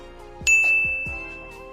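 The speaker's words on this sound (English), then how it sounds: "Notification bell?" A single bright notification bell dings with a clear metallic ring that decays slowly, accompanied by a few soft whooshing swipes.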